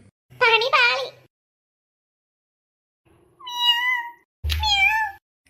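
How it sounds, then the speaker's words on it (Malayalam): Three clear meows from a nearby cat, the first short and double-toned, then two longer drawn-out cries after a pause. "അതെന്തോ അടുക്കള സൗണ്ട് കേട്ടെ ഉയ്യോ പൂച്ച തന്നെ വന്ന് മീൻ എടുത്തായിരിക്കും"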